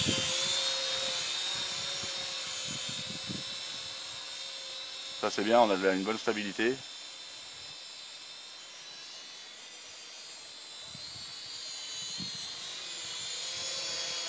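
A Syma X5SC quadcopter drone hums with a steady high-pitched whine throughout, while someone speaks briefly partway through.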